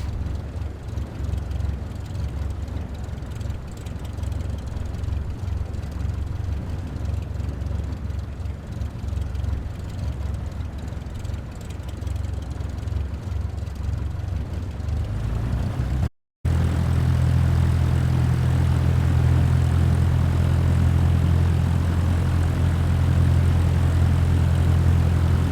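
A propeller airplane engine drones steadily in Microsoft Flight Simulator, a loud continuous low rumble that cuts out briefly, then returns as a deeper, heavier idling hum.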